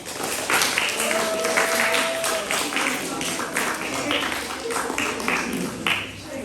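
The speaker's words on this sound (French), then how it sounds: "On peut les applaudir également." An audience claps steadily to welcome the arriving Mythics team at a school match, with a dense, continuous patter of applause while a voice talks over it.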